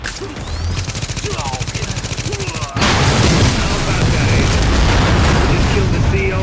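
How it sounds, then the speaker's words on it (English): A shock grenade goes off in Tom Clancy's The Division amid a firefight: rapid regular gunfire bursts build up, then a sudden loud blast gives way to dense, sustained explosive noise and shooting. "Throwing a shot grenade."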